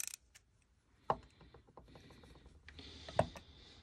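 An old 1/4 inch ratchet is turned, giving a few scattered mechanical clicks with two sharper snaps standing out, close and fairly quiet.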